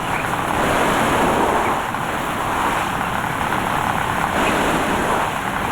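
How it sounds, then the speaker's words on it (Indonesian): A large chopper machine shredding about a ton of pakchong grass for fermented silage feed, a loud, continuous roaring whir with a steady grinding texture and no breaks, close by and without talk. "kita masukkan rumput-rumput yang sudah kita siapkan ke dalam mesin chopper"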